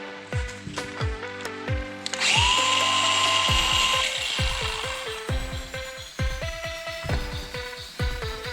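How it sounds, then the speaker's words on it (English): An angle grinder cuts into the metal exhaust extension of a Smart Fortwo car, with close, loud grinding and whining over intermittent tapping and clanking of metal parts. "I should probably go at the grinder a little bit"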